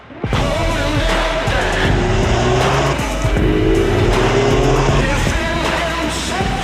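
A new 2018 Mini Cooper driving, a continuous loud engine drone with rising gear pulls and tire noise, steady and close throughout.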